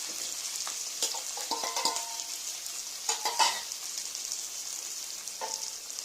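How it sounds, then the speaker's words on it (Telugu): Onion and green chilli pieces frying in hot oil, a soft steady sizzle with intermittent scraping and stirring clicks close by, no voices. "హీట్ అయిన తర్వాత దాంట్లో ఉల్లిపాయ ముక్కలను పచ్చిమిరపకాయ ముక్కల్ని వేసుకొని"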